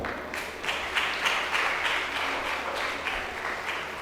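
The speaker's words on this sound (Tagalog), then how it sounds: "Pumalakpak ang naniniwala" Congregation clapping during a novena Mass inside a church, a modest patter of hands that swells and eases in soft waves, moderately distant and without voices over it.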